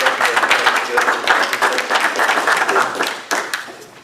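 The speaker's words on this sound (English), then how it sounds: "Give a round of applause for" Applause from attendees at a St. Robert, Missouri city council meeting honoring a young intern, a steady crowd clapping across the whole span that swells and fades slightly near the end.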